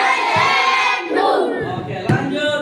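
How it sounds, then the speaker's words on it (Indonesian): Students in a classroom shout a rhythmic group chant together, a loud crowd of young voices in bursts with a few sharp claps cutting through. "Ya, tepuk Superman."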